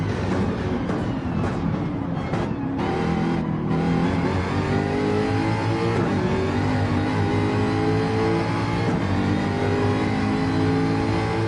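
Toyota Supra Gr-3 race car engine in a Gran Turismo endurance race screams at high revs throughout, rising in pitch through the gears with quick shift dips, loud and continuous.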